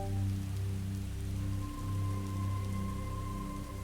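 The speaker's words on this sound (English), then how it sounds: "雨，而且很大。" Heavy rain pours in a visual novel game as a steady, even downpour over a low, sustained droning tone, moderately quiet and unbroken, with no voices.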